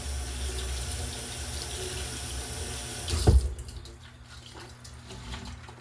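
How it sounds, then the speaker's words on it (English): Warm tap water runs steadily over frozen vegetables in a colander at a kitchen sink, a broad hiss that swells briefly with a splashy burst midway, then thins to a softer trickle. "run quickly some warm water over them"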